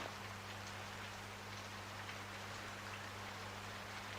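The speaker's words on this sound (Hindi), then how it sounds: "व्हाट बारिश" Steady rain pours and patters on surfaces, a dense even hiss with no pauses, fairly close and alone without voices.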